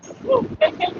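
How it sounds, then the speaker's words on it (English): Small dogs carried in a little bag give a short run of high whimpers and yips, close by, during a street outreach encounter. "Oh, there's more dogs in the little bag."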